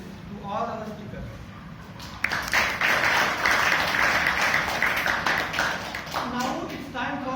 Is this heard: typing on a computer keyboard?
no